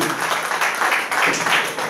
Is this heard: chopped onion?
no